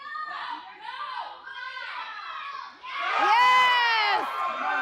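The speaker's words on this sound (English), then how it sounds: "The crowd is going absolutely crazy." A crowd cheers and shouts at an adult and masters obstacle competition, high excited voices in bursts that swell into a loud, sustained roar.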